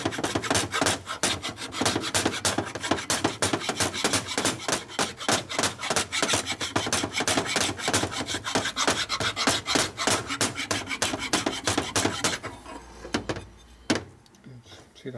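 A hand file rasps over hardened JB Weld on a 1941 74ci Knucklehead engine part in quick, rhythmic back-and-forth strokes, close and steady, ending with a few slower scrapes.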